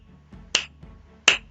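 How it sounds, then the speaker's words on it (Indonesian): Two crisp finger snaps sound close and clear, spaced under a second apart, with faint soft taps just before each one and near silence around them. "Atau juga bisa dengan jentik jari."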